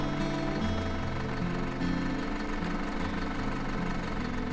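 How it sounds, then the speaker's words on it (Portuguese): A tractor engine idling in the Farm Manager 2018 video game, a steady, loud, throbbing mechanical drone that runs unbroken throughout with no speech. "Pelo visto, meu trator travou."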